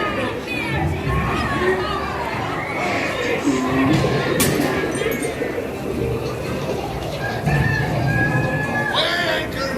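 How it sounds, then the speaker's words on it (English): Hens clucking on the Pirates of the Caribbean-style auction scene of a Magic Kingdom ride at Walt Disney World, a busy mix of loud clucks and fowl squawks layered under animated character voices and park crowd noise. "What may I offer for these hearty hens? Every one an egg layer."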